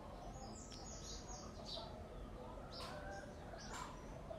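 Faint birds chirping and a dove cooing at a distance over a steady low background rumble, with small scattered calls rising now and then, alongside chickens.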